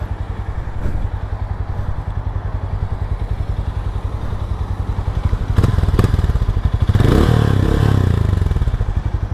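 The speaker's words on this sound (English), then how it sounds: "Let's listen to the exhaust once." A Hero Mavrick 440 motorcycle idles nearby with a loud, pulsing exhaust thump, briefly rising in a short rev with some clattering toward the end.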